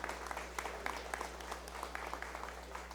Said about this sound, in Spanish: Le brindemos un fuerte aplauso a nuestro gobernador, al doctor Rutilio Escandón Cadenas